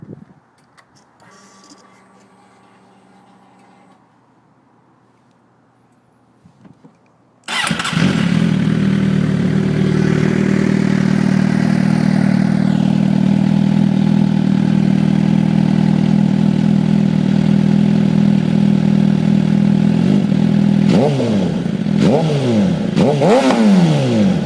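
2008 Suzuki GSXR 750 motorcycle with an M4 exhaust, quiet at first, then the engine fires up into a loud, steady, close idle, followed by a few sharp throttle blips at the end.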